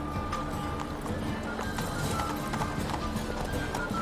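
Roach, the horse in The Witcher 3, gallops with a quick, even run of clip-clopping hooves over a dense, steady game soundscape at moderate level, with no pauses.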